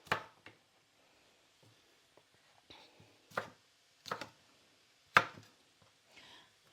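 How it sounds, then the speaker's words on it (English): Vegetables chopped on a cutting board while cooking chicken wraps, a handful of sparse, separate knife thuds close by in a quiet kitchen, with no talk. "Those 2 bits I'm just going to chop up."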